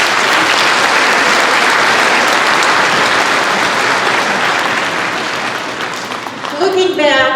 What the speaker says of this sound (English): Let's have a round of applause for those people.